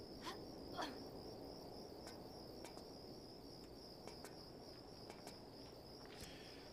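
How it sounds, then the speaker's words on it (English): Crickets chirp steadily throughout a quiet area in Tomb Raider IV–VI Remastered, a soft continuous high trill with a few sharper clicks and faint game ambience beneath, no voices. "It's so quiet with just the crickets chirping in the background for this game."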